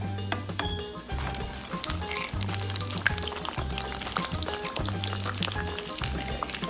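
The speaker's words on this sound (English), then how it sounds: "while the sugar is melting, we're gonna add in our plantain" Plantain pieces sizzling steadily in melting sugar in a pan over medium heat, with occasional clinks of a utensil against the cookware; no talking.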